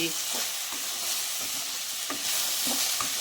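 An okra tempering fries in a pan and is stirred well, with a dense, close sizzle and intermittent scraping strokes of the spoon through the pieces. No one speaks.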